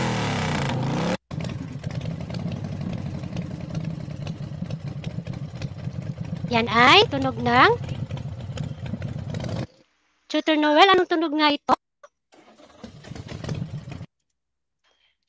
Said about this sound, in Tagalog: Ayan, motorsiklo.